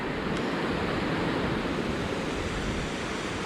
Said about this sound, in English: This is some rapid water though flowing down through here, but with huge rocks.